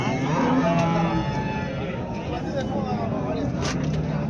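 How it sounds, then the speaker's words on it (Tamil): Sindhi cattle at a cow market moo in long, drawn-out calls, one loud and close near the start and others following, over a busy crowd murmur and background voices. "சிந்து மாடு நிறைய தாங்க வந்திருக்கு."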